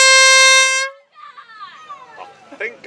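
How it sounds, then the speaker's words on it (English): A loud, sustained blast of an air horn sounds the five-minute warning signal at the start of a sailing race, cutting off abruptly after about a second. Faint voices and ambient noise follow. "That was the 5-minute gun."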